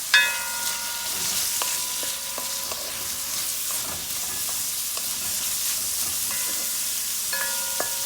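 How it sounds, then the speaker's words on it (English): Onions and peppers fry in a pan, giving a steady close sizzle and hiss, while a utensil stirs them with scattered scraping and clinking taps. "I'm gonna give this a stir."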